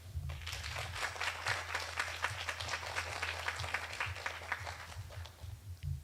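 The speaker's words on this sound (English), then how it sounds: "give your families a large round of applause because you are here because of them." A graduation move-up ceremony audience applauds families, steady dense clapping filling the whole stretch at moderate level with a low hum underneath.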